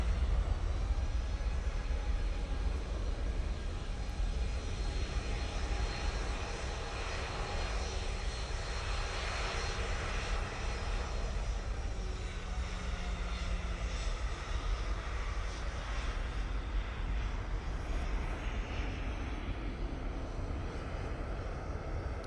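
A Ryanair airliner departs for Milan from Manchester Airport, its engines a steady distant roar that swells slightly in the middle and holds throughout.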